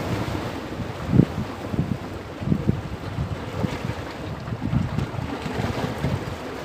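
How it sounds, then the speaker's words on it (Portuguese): Strong wind at sea on a small fishing boat off Florianópolis, a loud steady rushing buffet with low gusts and thumps, no talking. "Tem muito vento, galera."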